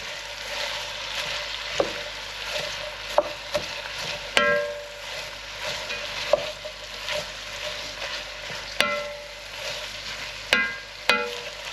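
Onions fry in butter and oil in a pan, a soft steady sizzle broken by several sharp clinks and scrapes of stirring, close and moderately quiet with no talking.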